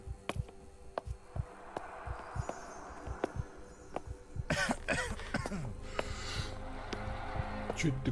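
A video game character in the horror game Maid of Sker coughs and clears the throat several times amid faint clicks and rustling, with a brief voice overlapping.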